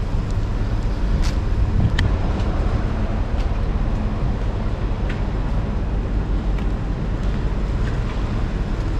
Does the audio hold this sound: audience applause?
no